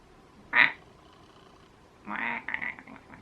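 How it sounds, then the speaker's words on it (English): A short, high nasal squeak made by a mouth, sounding like a duck's quack, followed about a second and a half later by a longer, rougher squawk. "I did a weird squeak with my mouth then. Sounded a bit like a duck."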